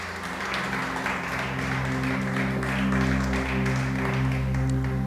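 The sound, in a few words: congregation applause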